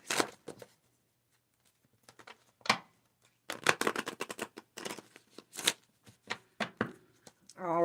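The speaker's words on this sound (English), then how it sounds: "We are going to first pull a Manifest Soulmates Oracle card." Manifest Soulmates Oracle cards being shuffled and pulled in a tarot reading, giving quick bursts of papery riffling and flicking that come in irregular clusters, close and fairly crisp.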